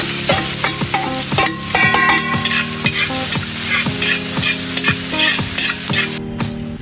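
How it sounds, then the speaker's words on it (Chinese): Preserved mustard greens (meicai) and ginger slices stir-fry in a wok, a loud close sizzle punctuated by a regular series of spatula scrapes and clanks against the metal. "然后将这个梅菜也下去炒香。"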